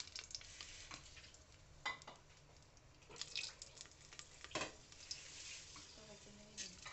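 Bay leaf and cumin sizzling in hot ghee, a soft, steady crackle with occasional light clinks of a utensil against the pan, faint and close.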